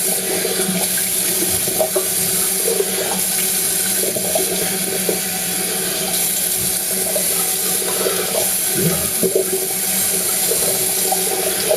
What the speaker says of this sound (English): I'm just going to rinse my face with some cold water.